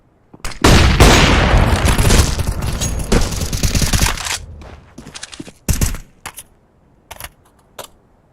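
A flashbang grenade goes off in Counter-Strike: Global Offensive gameplay, a loud sudden blast followed by a sustained noisy roar and then scattered sharp clicks and pops as it fades.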